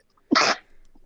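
A single sharp human sneeze bursts out close by during a tabletop role-playing game session, a short explosive blast followed by quiet breathing.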